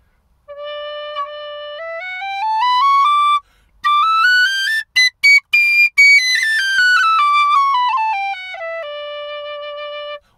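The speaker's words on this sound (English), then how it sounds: "Here is, by comparison, the PVC whistle, CPVC whistle that he sent me." A CPVC pipe whistle is played alone, clear pure tones stepping up a scale, a short gap, then quick tongued notes and trills before stepping back down and holding a final long note.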